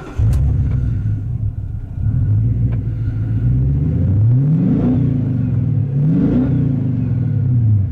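A Mercury Grand Marquis engine rumbles loudly nearby, its pitch rising and falling unevenly as it revs, sputters and starts to die.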